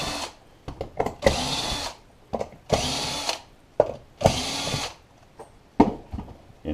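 Several bursts of a power drill driving 1 1/4 inch screws, whirring for about a second each with the clutch clicking, separated by short gaps with small clicks and knocks, close and loud.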